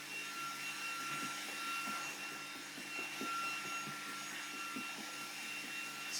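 A steady, loud vacuum cleaner drones on throughout with a constant whine, some faint tapping and knocking underneath, and no talking.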